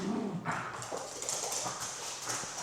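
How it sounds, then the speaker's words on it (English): Several dogs scuffle and growl indoors in a continuous noisy tussle lasting a few seconds, with scraping and yelps at moderate volume and no talking. "Sorry, my dogs are fighting."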